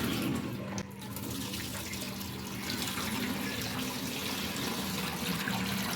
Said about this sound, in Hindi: तो यहाँ अम्मी चावल जो है वो धोने लगी है, पानी डाल दिया।